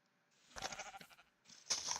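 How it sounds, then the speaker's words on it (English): A sheep bleats twice in Minecraft, each call a short wavering cry, the second louder and sharper, heard alone and close. "I hear a sheep."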